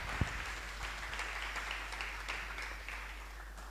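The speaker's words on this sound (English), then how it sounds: "can we just clap for the man and the woman of God?" Congregation in a church service clapping steadily together, a dense, moderately distant patter of applause that holds evenly throughout with no voices on top.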